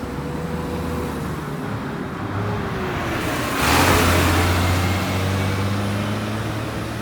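Steady road traffic at a busy traffic circle on Mandela Avenue before the morning rush hour, with a continuous broadband roadway hum, low engine drones and a vehicle passing close by in the middle.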